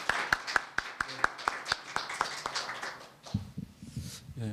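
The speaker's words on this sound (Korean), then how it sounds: "박수 부탁드리겠습니다." Scattered handclaps from a small conference audience at a campus town presentation in Seongbuk. They come as sparse, evenly spaced claps, fade out after about three seconds, and are followed by a voice speaking.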